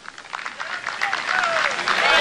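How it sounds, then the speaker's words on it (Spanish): Applause rises from a crowd at the inauguration of a food processing plant in Portuguesa state, opening a 2019 planting plan, growing steadily louder over two seconds with a voice speaking over it. "Aquí también los aplaudimos,"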